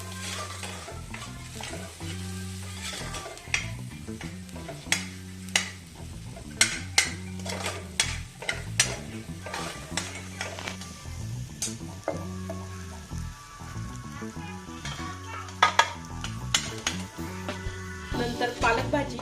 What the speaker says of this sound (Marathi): अशा प्रकारे मंद आचेवर व्यवस्थित फ्राय करून घेऊया।